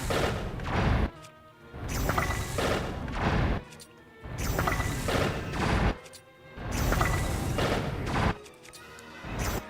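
Bomb explosions in The Legend of Zelda: Tears of the Kingdom, a rapid series of loud booming blasts in three roughly two-second waves, each cluster dense with crashing bursts and short gaps between.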